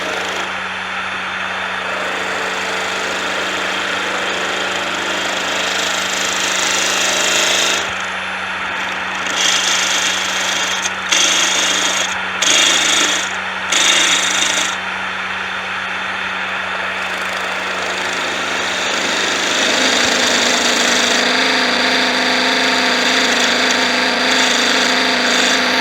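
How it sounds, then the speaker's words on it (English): A wood lathe spins steadily while a bowl gouge cuts down a turned wood bowl, giving a loud continuous hum and scraping hiss, with several brief dips and breaks as the tool lifts off the work. "we'll bring this on down with the bowl gouge"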